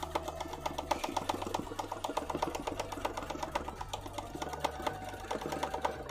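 A sewing machine runs steadily up close, its needle pounding out a fast, even mechanical rhythm with a low motor drone underneath, the pitch dipping and rising as the speed changes.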